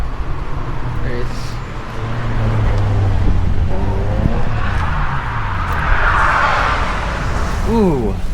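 A race car climbs the hill at Ebisu Circuit, its engine rising from distant to a louder, building roar, while people talk nearby over the approaching sound.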